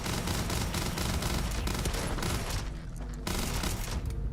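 Sustained automatic gunfire from the video game Starfield in survival mode, a dense, loud, continuous burst of rapid shots that breaks off briefly near the end and then resumes.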